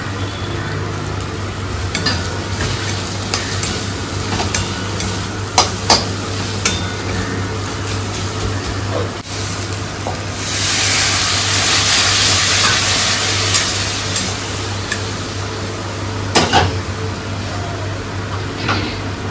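Spice masala with turmeric powder, common spices and chopped tomato is stir-fried in a pan, giving a steady soft sizzle with scraping stirs and a few sharp clinks of a utensil, broader frying hiss swelling midway.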